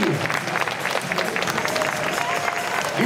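A crowd claps steadily throughout at a costume contest in Chalon-sur-Saône, with dense applause mixed with cheering and voices.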